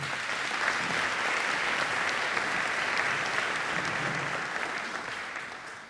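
An audience at a Danish panel discussion on entrepreneurship applauds the panel, a dense, steady wash of many hands clapping that holds for several seconds before easing slightly at the end.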